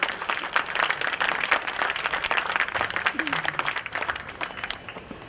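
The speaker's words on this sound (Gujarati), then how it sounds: "કેટલી નબળી તાળીઓ છે યાર" Audience at a Gujarati literary talk claps in a dense, steady round of applause lasting several seconds, moderately loud and close, tapering slightly toward the end.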